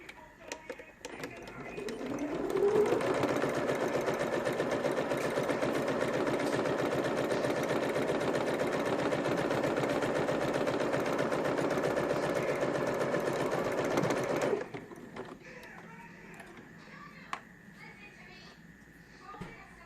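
A sewing machine top stitches a one-eighth inch seam along card slots, running in one steady, continuous whir for about twelve seconds before stopping, followed by quieter handling sounds.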